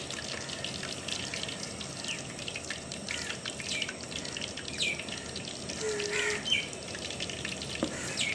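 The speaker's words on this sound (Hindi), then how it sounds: "हम पहला पकौड़ा डालते हैं" Pakoras frying in hot oil in a village kitchen, a steady soft sizzle and crackle with scattered pops, fairly faint and continuous, with no one talking.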